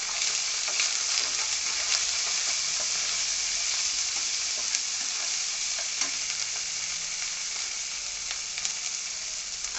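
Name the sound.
ginger and garlic frying in a pan with turmeric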